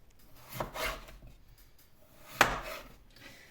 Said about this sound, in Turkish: Çok kalın yapmamak şartıyla doğruyoruz.